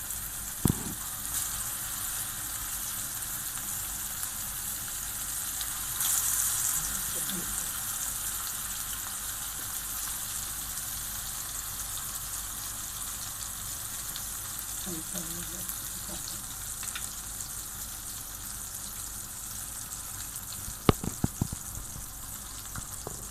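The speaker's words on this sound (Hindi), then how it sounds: "ये हीट चेक कर लें, ऑयल हो गया। चलो डालते हैं कबाब।" Shami kababs shallow fry in hot oil in a pan, a long, steady, fairly quiet sizzle with occasional light bumps and a sharper clatter near the end.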